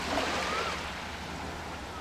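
Boat engines drone low and steady near a remote beach on Phi Phi, Thailand, a faint continuous hum mixed with wind and surf in the background.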